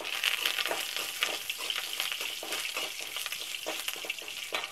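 Curry leaves crackling in hot oil with urad dal, a dense steady sputtering fry with rapid pops throughout, close and fairly loud, no one speaking.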